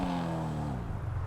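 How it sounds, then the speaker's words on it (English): Stock car engine in GTA 5 Online easing off after the throttle is released, a steady low engine drone with descending harmonic tones, loud and continuous with no talk. "so you guys can hear what the engine sounds like when I let off the gas"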